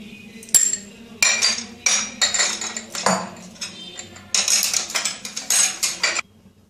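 A spoon scrapes and clinks against a bowl while mixing spices, dried chilli and black salt for aloo kabli, in close, repeated bursts of rhythmic stirring with short pauses.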